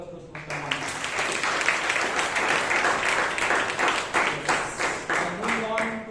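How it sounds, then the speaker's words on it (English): Audience applause fills a Toastmasters meeting room, a dense sustained clapping from many hands that stays loud and close throughout before starting to thin toward the end. "Can we have a round of applause to Smitha?"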